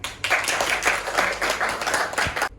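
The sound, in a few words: applause, clapping hands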